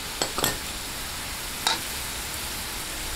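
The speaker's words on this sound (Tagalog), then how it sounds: "habang ginigisa po natin, lalagyan ko na po ng paminta" Ground pork sautéing in a pan with pepper and fish sauce: a low steady sizzle with a few brief scraping stirs near the start and one more a little later, no voices.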